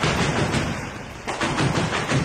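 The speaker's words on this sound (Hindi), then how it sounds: "एक जगह तो मशीन गन से इस तरह गोलियां चलती दिखाई दी" Dense, rapid machine gun fire in combat near the Azovstal steel plant, a continuous rattling burst with overlapping booming reports, loud and harsh for about two seconds with a brief dip midway.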